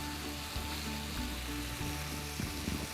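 White wine poured into a hot risotto pan of mushrooms and chicken sizzles steadily, a close, continuous hiss of frying with a faint stirring clatter and no speech.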